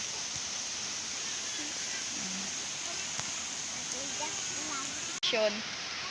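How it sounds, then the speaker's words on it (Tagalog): Steady rain falls outside a house in the Philippines, a constant broadband hiss of rain on surfaces filling the whole stretch, with faint voices underneath and a brief louder knock near the end. "Hanggang ngayon po umuulan pa rin."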